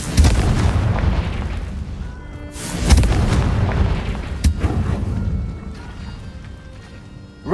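Blasting spell explosions in the Hogwarts Legacy video game, with a dense, rumbling wash of booms and a sharp burst near the middle, loud and continuous with no talking.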